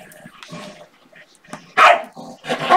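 Dogs barking indoors, with scattered softer yips and whimpers followed by two loud, close barks near the end.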